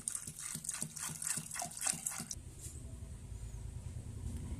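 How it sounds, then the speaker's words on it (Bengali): Water poured into a pressure cooker holding ghugni peas, a soft gushing splash for about two seconds that gives way to a low, steady background hum. "তারপরে পরিমাণ মতো জল দিয়ে দিলাম"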